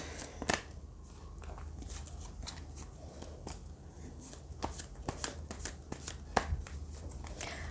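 A deck of oracle cards is shuffled by hand in a quiet room, giving repeated crisp riffling snaps and soft slides at an irregular rhythm, close and faint.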